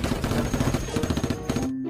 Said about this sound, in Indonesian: Wah, senapan laser.